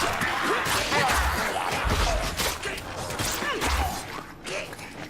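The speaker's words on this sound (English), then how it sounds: "I'm gonna open the door, because I don't want these guys to break my door" A door creaks open in a video game, with mechanical clunks and a few low thuds mixed into a busy, cluttered game soundscape.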